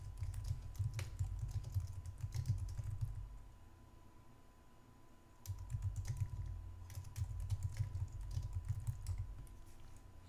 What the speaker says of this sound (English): So if we type our text